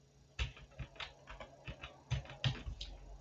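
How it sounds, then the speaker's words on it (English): Rapid keystrokes on a computer keyboard, a steady run of light clicks and taps with a few harder key presses, close and fairly quiet with no talking. "So I'm going to type in"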